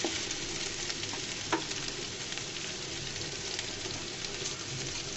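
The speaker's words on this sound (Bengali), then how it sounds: "এই পর্যায়ে দিয়ে দিলাম পাঁচফোড়ন। গোটা হাফ চামচ মতো আমি পাঁচফোড়ন দিয়েছি তেলের মধ্যে।" Half a spoon of panch phoron, the Bengali five-spice mix, dropped into hot oil for spicy pickled brinjal, giving a steady, dense sizzle that holds close and even throughout, with a faint tick or two.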